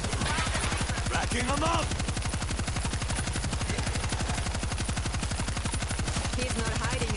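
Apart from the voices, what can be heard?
turret gunfire in the video game World War Z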